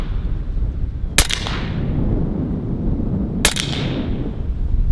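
Two sharp shots from a .30 caliber Western Sidewinder air rifle fired at an outdoor target range, spaced about two seconds apart, each a loud crack with a short ringing tail over steady wind noise.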